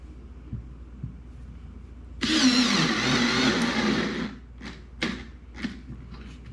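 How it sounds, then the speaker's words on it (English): A Ryobi cordless screwdriver driving a screw runs with a steady close whir for about two seconds. A few short clicks and taps follow. "So let's give the Ryobi a try."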